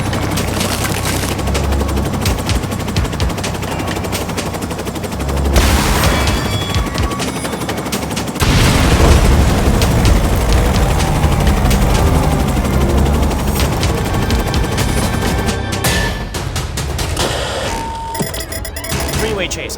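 Rapid gunfire in the Terminator 2D: No Fate game, dense bursts of shots and automatic fire layered over loud action music, with a voice talking at times.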